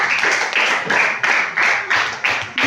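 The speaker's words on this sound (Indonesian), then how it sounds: "Kita berikan tepuk tangan dulu untuk kelompok 1 ya" A classroom of junior high students in Tarowang claps together for a group, about eight sharp, evenly spaced bursts in a steady rhythmic pattern, fairly loud and close, with no talking over it.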